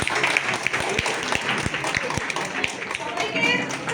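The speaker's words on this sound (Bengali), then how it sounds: "হাততালি আমি চাইছি" Audience after a Bengali stage drama applauding, a crowd's rapid clapping with a few sharp, distinct nearby claps standing out over the general wash, with murmuring voices mixed in.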